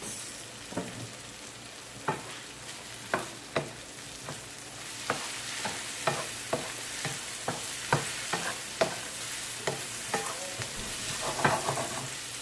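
Bacon bites for a Jamaican ackee dish crackle and sizzle in a hot pan, with a steady run of sharp scrapes and clacks as a utensil stirs them; no one speaks.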